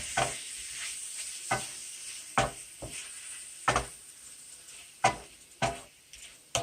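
Shrimp sizzling in a pan as they are stirred around, a continuous frying hiss punctuated by repeated sharp scrapes and knocks of a utensil at irregular intervals, close and clear.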